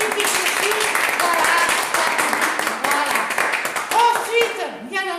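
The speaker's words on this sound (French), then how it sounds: "D'ailleurs, on peut l'applaudir aussi." Audience clapping and applause at a French comedy show featuring a nurse character, dense and steady throughout, with someone speaking briefly over it near the end.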